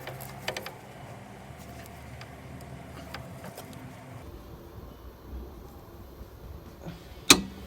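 A tight, rusty Torx bolt is undone on a Toyota Aygo rear wheel bearing job, with quiet scraping and clicking followed by a single sharp metallic ping near the end.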